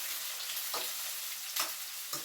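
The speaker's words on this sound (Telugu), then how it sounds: "ఇప్పుడైతే పెసరపప్పు వేసుకుంటున్నాను అండి తాలింపుకి" Moong dal dropped into a hot oil tempering for upma, with carrot and tomato pieces already in the pan, crackling in a soft continuous sizzle with a few brief stirring scrapes, close and without talk.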